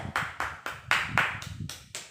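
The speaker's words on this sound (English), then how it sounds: "applause for yourself" A small class applauds itself at the end of a lesson, with about eight separate bursts of handclaps spaced roughly a quarter second apart, moderately loud and close, with no talking over them.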